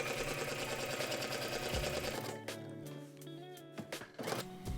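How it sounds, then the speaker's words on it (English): A sewing machine whirs in a fast, steady buzz for a couple of seconds stitching layered bedsheet fabric, then stops, followed by a few light clicks and rustles nearby. "sew a straight stitch on top of the second layer."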